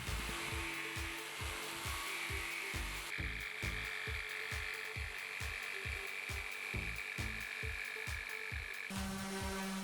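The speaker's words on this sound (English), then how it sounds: "I mark and drill the positions of every screw." A power drill bores screw holes in a birch plywood band saw stand, giving a steady whine over a fast, rhythmic pulsing chatter that runs close and loud almost without pause.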